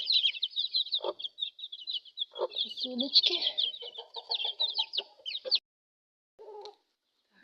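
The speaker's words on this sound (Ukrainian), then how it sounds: "Такі курочки" Chicks peep in a busy, high-pitched chorus in a farmyard, with a few low hen clucks and a voice mixed in, then everything falls quiet.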